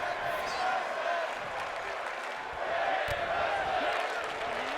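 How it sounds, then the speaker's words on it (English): A wrestling crowd at a Joshi women's wrestling event cheers and chants from the stands, a dense, steady roar of many voices filling the arena throughout. "this crowd is on their feet chanting for Joshi Wrestling"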